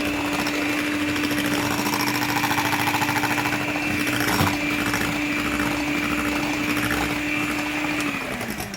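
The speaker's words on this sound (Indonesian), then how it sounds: "Ini nggak usah pakai kecepatan tinggi ya mixernya ya, pakai kecepatan rendah saja." An electric hand mixer runs steadily at low speed while mixing bika ambon batter, a continuous motor whine with a strong steady hum that stays level throughout and drops slightly at the very end.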